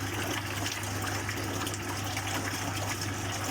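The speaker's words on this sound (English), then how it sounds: "I then shut these valves on the outside and continue to fill it" Water steadily gushing into a koi pond filter tank as it is refilled, a continuous even rush with a faint pump hum beneath, no speech.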